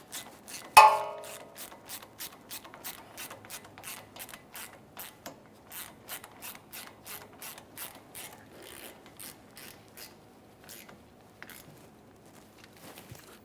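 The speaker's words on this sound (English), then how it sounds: "We're tightening the banjo bolt enough that it gently squeezes each of the two gaskets" A hand ratchet tightens the banjo bolt on the rear brake caliper of a 2014-2018 Mazda 3 during a brake flex hose swap, making a long run of evenly spaced dry clicks after one louder initial clack, close and clear.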